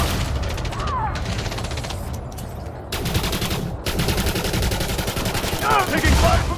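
Sustained gunfire in the Elite Dangerous: Odyssey video game, a dense, loud barrage of rapid shots with a few sharper bursts, mixed with game voice chatter and battle noise.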